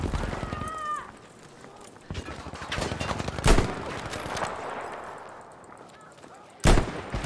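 Gunfire and a grenade blast in a combat video game, scattered rifle shots and sharp bursts with two loud booming impacts, mixed with faint game chatter.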